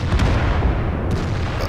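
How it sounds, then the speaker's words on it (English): Artillery shells strike tanks in the World of Tanks video game, a dense low rumbling blast that stays loud and sustained through the moment, with no voices over it. "Looks like two artillery shots just went into those tanks that were poking around the corner."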